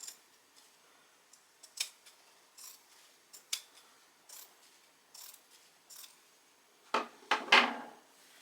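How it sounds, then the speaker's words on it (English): Pinking shears snipping through flannel shirt fabric, a series of crisp, evenly spaced close cuts followed by a louder burst of snips at the end, no talking. "I'm going to take my pinking shears and just cut that off"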